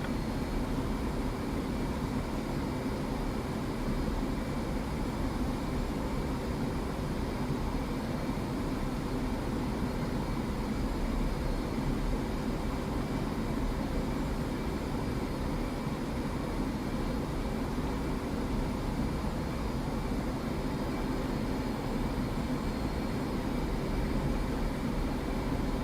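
An F/A-18 jet engine runs in the DCS flight simulator, a constant loud roar with a steady whine layered on top, unbroken for the full stretch and with no talking.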